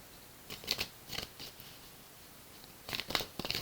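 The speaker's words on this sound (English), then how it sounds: "we're going to pull a few cards here" Tarot cards shuffled by hand in short riffling bursts, two clusters separated by a quiet pause, close and fairly soft with no talking.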